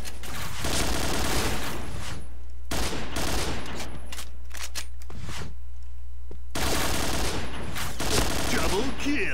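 Gunfire in the video game Point Blank: loud, dense bursts of automatic fire and overlapping shots in three main volleys separated by brief lulls, with a steady low hum underneath.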